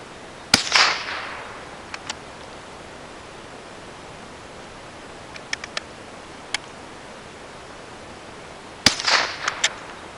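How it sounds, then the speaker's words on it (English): A Federal Lightning .22 LR round fires from a single-shot Springfield rifle: a sharp crack near the start and another near the end, with a few faint metallic clicks of the action in between over quiet outdoor hiss. "I just shot one"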